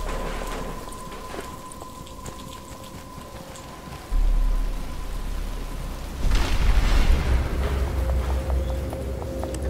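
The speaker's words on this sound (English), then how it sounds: "But it's starting to rain." Rain begins to fall in the video game Batman: Arkham Asylum, a soft hiss that swells sharply twice as the downpour grows heavier, with a low sustained tone running underneath.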